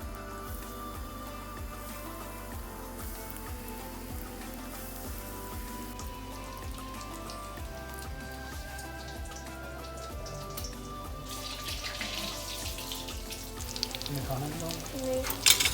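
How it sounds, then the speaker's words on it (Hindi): Bread-crumbed chicken cutlets fry in hot oil with a continuous soft crackling sizzle that turns busier and louder toward the end, close up and fairly quiet. "अभी मैं इसको फ्राई कर दूँगी"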